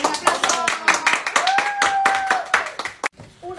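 Audience clapping in distinct rhythmic bursts, close and sharp, with voices and a tonal call mixed in before the claps stop.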